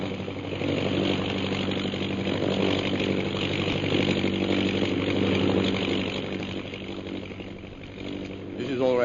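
A plane's engine drones steadily and fairly loud as the aircraft circles to land in a radio drama, a continuous mechanical hum that dips slightly near the end.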